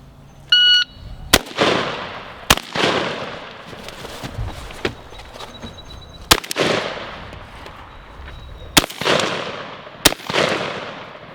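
A shotgun fires Federal Flight Control 9-pellet 00 buckshot outdoors. Six sharp, loud blasts come at irregular intervals, each followed by a short decaying echo, with a few electronic beeps near the start.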